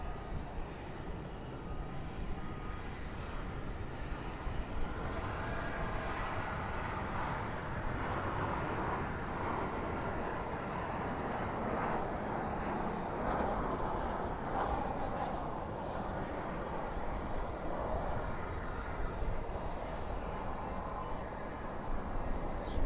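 An American Airlines jet arriving at Dallas/Fort Worth airport at night makes a steady, broad engine rumble and roar that holds fairly evenly at a moderate distance for the whole stretch, with spoilers up and reversers deployed.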